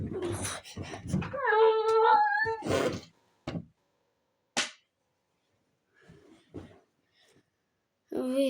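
A cat meows with a drawn-out, wavering cry near the start, amid nearby voices and a few sharp clicks, then quieter pauses.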